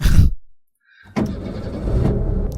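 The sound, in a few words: car engine in the Scratches video game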